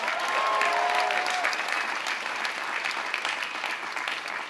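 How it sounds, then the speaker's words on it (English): A crowd applauds steadily at the AIDS Walk New York kickoff, a dense wash of clapping that holds loud throughout and eases slightly toward the end. "let's give them a round of applause"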